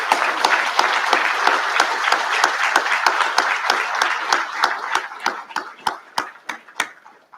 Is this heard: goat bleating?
no